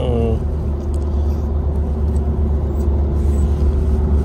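Interior road noise of a moving car, a continuous low rumble and tire hum with a steady drone, fairly loud and unbroken.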